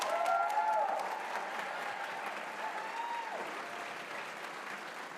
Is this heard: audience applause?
yes